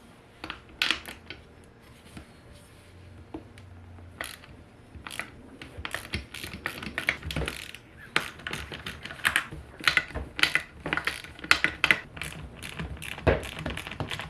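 Small metallic clicks and taps of screws and parts being handled while removing the air intake on a 1996-2001 SN95 Mustang GT, irregular and close, with scattered sharp rattles and no talking.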